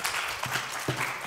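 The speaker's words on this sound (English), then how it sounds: "Give him a very big applause," Brief burst of audience applause at a 5G Hub health webinar on a high-tech campus, a steady wash of clapping with a couple of louder accents, over in about a second.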